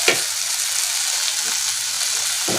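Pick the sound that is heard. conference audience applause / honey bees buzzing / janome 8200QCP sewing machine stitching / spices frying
spices frying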